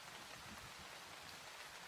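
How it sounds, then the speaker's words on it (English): Steady rain falling on a surface, a dense continuous hiss with soft patter, even and unbroken throughout, with no voices. "The rain should be clearing up soon"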